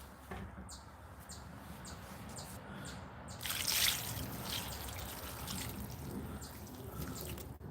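Water trickling and dripping while containers are rinsed outdoors, a faint steady splashing with small drips and a brief louder pour midway, birds audible faintly in the background.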